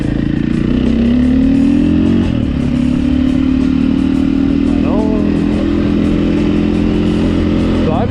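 A KTM 500 EXC dirt bike engine runs loud and close on trails at Gray Butte Loop and Henderson Flat, holding a steady drone that climbs in pitch as it revs.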